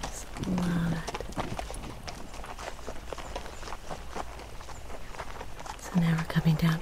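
Horse hooves clip-clop steadily on a mountain forest trail along the Pacific Crest Trail, a close walking rhythm of repeated soft thuds with brief snorting or whinny-like bursts near the start and end.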